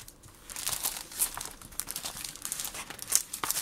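Plastic packaging of a Lansvit pansy cross-stitch embroidery kit crinkles and crackles up close as it is opened, a busy run of sharp rustles with no talking.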